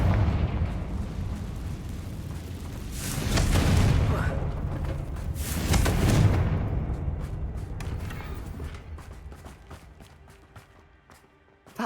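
A Confringo fire spell explodes in the Hogwarts Legacy video game, two loud booming blasts with rumbling tails a few seconds apart, settling into crackling debris and ambient game noise.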